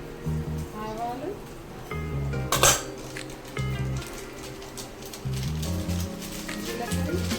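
Utensils clink and scrape against a pan as mustard seeds are added, with repeated metallic taps and a sharp clatter, under a voice speaking and a low background hum.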